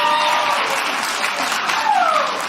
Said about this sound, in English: Thank you for clapping for my panties.